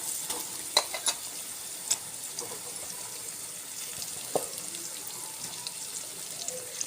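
Marinated chicken frying in a pan gives a steady soft sizzle and hiss, with a few sharp clinks and scrapes of stirring near the mic, no talking.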